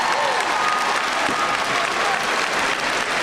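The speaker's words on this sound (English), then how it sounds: "Let's give her another round of applause" Large crowd applauding at a Southern University Baton Rouge fall commencement ceremony, dense sustained clapping filling the hall, with faint voices underneath.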